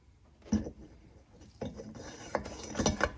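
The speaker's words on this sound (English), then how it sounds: "it is very easy to pump. I am pressurizing the tank" Hand pump on the fuel tank of a 1951 Coleman 228E pressure lantern being worked to pressurize it, giving a few close, dry ratcheting and rubbing strokes in uneven bursts with short pauses between them.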